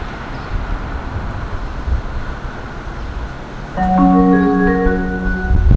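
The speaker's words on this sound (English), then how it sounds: "The train to downtown is arriving" A Miami-Dade Metromover train pulls into a Brickell station. A low rolling rumble is followed by a louder stretch as a cluster of steady whining tones, from a chime or the train itself, rises over it.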